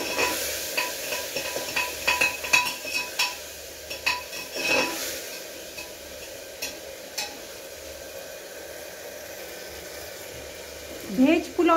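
Veg biryani with salt and water frying in a pan, a soft steady sizzle with scattered stirring clinks and scrapes near the start, faint and close, with a voice talking over it.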